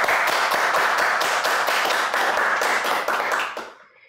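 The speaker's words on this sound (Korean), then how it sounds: "박수로 환영하겠습니다." Applause from a seminar audience welcoming the presenter at a debate on basic income, a dense, steady round of many hands clapping that continues for over three seconds before quickly fading out.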